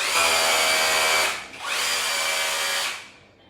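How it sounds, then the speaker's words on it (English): A loud, high-pitched cordless brushless rotary hammer drill whirs in two sustained bursts separated by a brief dip, then winds down at the end. "Rotary hammer, very powerful."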